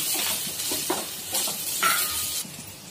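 Onions and green chilies sizzle in a hot pan while being stirred for fish curry, with scraping bursts and a steady frying hiss close by.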